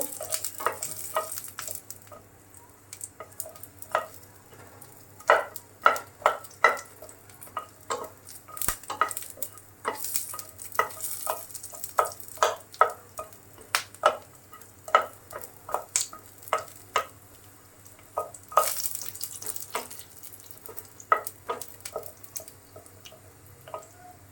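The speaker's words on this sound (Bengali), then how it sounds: "রসুনটি একটু ভাজা নেব" Garlic crackles and sizzles in a pan, with a soft steady hiss broken by frequent sharp pops and the occasional scrape of stirring.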